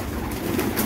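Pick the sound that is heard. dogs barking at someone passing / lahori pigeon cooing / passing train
lahori pigeon cooing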